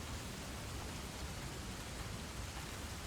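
Steady rain falling, a soft even hiss with no breaks, faint and constant throughout.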